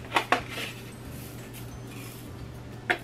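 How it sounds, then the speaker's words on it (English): Cumin, coriander, salt, pepper and oregano mixed in a small bowl, with two quick clinks of a utensil against the bowl, then a quiet pause and one more clink. "We're going to start off by putting our cumin, coriander, salt, pepper, and oregano together in a small bowl, just like that."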